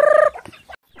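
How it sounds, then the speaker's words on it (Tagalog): Chickens and other poultry at feeding time give a loud, close burst of rhythmic gobbling calls, then a few softer clucks and scattered noises. "Yan yung mga manok natin"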